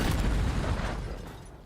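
Grenades blast during a competitive Call of Duty match, a loud low boom that rolls into a decaying rumble over nearly two seconds, with no other sounds on top.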